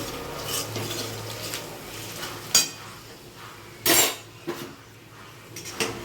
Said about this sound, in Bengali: এগুলো খুব ভালো করে নেড়ে নেব।